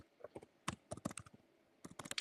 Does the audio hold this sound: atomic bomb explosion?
no